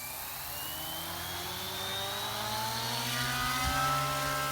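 A Goblin Mini Comet RC helicopter with a 3005 tail servo and V-Bar Neo flybarless unit hovers at low head speed, its rotor giving a steady, close whirring drone that swells slightly, with no voices.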